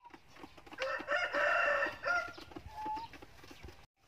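Laying hens on an organic farm cluck and squawk close by, with a drawn-out crowing call rising loud in the middle and softer clucks trailing off afterward.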